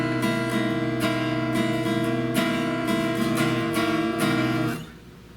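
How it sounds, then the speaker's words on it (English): A guitar with its tuning pegs turned slightly out of tune, strummed in repeated chords that ring close and loud before cutting off abruptly near the end, with no voices. "But if I just turn these pegs a little bit so that it's out of tune"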